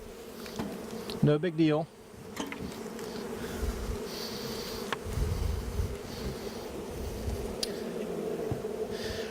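Honey bees swarm around their hives, a steady close buzzing drone with individual bees passing by; a person speaks briefly near the start.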